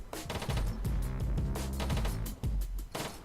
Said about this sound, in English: Time to shoot some rounds.